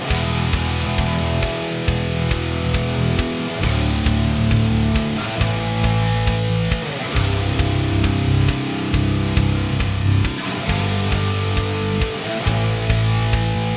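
Heavily distorted electric guitar chugs and riffs loudly through an EVH 5150 III tube amp head, with tight palm-muted rhythms and brief pauses between phrases.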